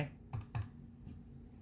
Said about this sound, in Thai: แล้วก็ลองพิมพ์ดูนะครับว่าสามารถใช้เมาส์ได้ไหม